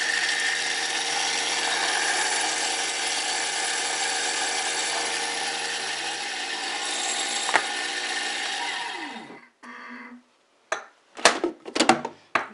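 Thermomix food processor whirring steadily as it chops ingredients for lemon poppy seed pound cake, a loud continuous motor drone that winds down and stops, followed by a few short bursts and clunks.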